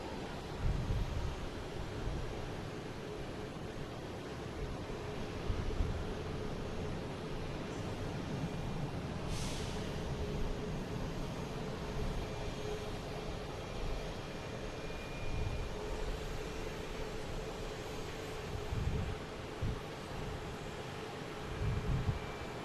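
A Delta Airbus A321neo takes off from Boston Logan, heard as a distant, sustained jet roar that holds steady under faint wind and ambient noise, with no talk.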